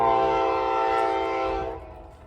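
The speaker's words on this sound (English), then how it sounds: "A choo-choo train, obviously." A train passing during railfanning in Elkhart sounds loud and close, with a sustained blaring horn chord over rumbling rail noise that fades toward the end. No one talks.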